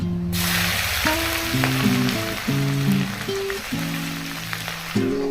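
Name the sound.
ginger frying in oil with moong dal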